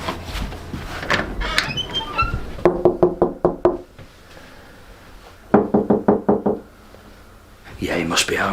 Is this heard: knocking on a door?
yes